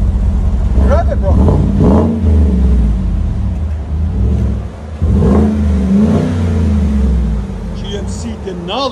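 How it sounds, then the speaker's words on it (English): A 2017 GMC Sierra Denali pickup with a 6.2L V8 and a Vibrant resonator exhaust revs repeatedly close by, its deep, loud engine note rising and falling in several pulls while people talk over it. "That vibrant muffler sounds really nice."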